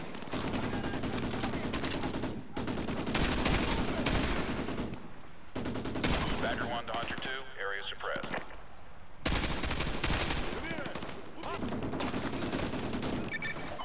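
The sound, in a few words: gunfire in the video game Call of Duty: Modern Warfare 2 Remastered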